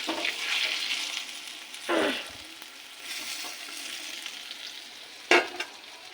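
Cabbage kofta fritters fry in hot oil with a steady close sizzle, punctuated by a few brief louder splashes and stirs as pieces are turned.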